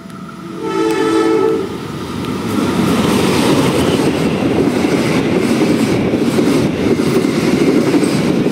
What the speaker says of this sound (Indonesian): Pukul 11:27 kereta api Airlangga tiba stasiun Haurgelis